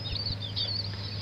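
Sick day-old chicks in a crowded poultry brood peep weakly as if cold, thin high chirps that overlap in a fairly faint, continuous chorus over a steady low mechanical hum.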